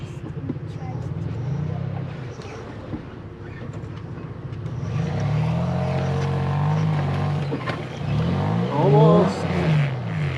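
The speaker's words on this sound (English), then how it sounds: "I stopped to watch the Tacoma try to get up this. The slush here was extremely slick" A Toyota Tacoma climbs a slick, slushy winter trail, its engine heard from a distance and then revving harder with rising and falling pitch as the tires fight for grip. People talk at times over the engine.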